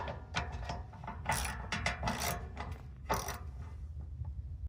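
A hand ratchet clicks in short bursts while bolts are tightened during an oil change on a 2025 Ford F250 with the 6.7 engine, close and crisp with metallic clatter between strokes.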